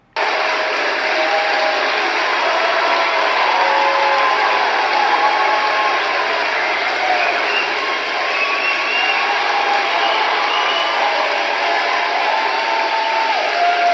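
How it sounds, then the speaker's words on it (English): Dense, sustained applause with cheering from a large audience at a holiday speech, a steady wall of clapping that holds loud and even for the whole stretch with no speech over it. "Let's give her a huge round of applause."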